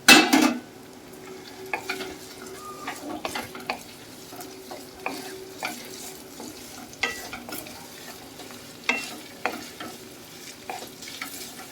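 Fried rice sizzles steadily in a hot pan on a Bengali home stove while a utensil stirs and scrapes, with sharp clinks and knocks recurring every second or so over about twelve seconds; there is no talk.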